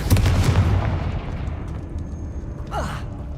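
A Confringo fire spell cast in Hogwarts Legacy lands as a loud, booming blast that fades away over a couple of seconds, followed by a short swooshing magical flourish near the end.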